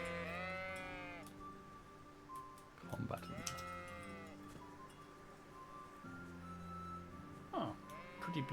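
Sheep in Kingdom Come Deliverance bleat several times, a wavering call at the start followed by a few more scattered bleats, close and distinct over a quiet game soundscape with faint clinks.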